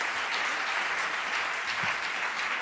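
Concert audience clapping in a hall, a dense, continuous wash of applause from many hands at steady volume across the whole stretch.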